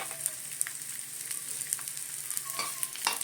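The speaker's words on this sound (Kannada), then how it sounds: "ಇಷ್ಟು ಫ್ರೈ ಮಾಡ್ಕೊಳ್ಳೋಣ" Onion and garlic frying in a teaspoon of oil in a pan, giving a quiet steady sizzle with occasional soft pops and stirring clicks and no talking.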